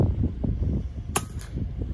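A single sharp crack from an FX Impact M3 air rifle fired at iguanas in a field, sounding as one brief close snap over low background rumble.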